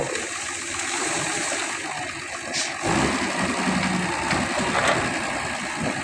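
A farm tractor's engine idles with a steady, loud rumble nearby at a sugarcane loading yard, accompanied by some splashing and rattling.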